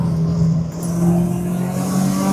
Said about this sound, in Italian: Si sente il turbo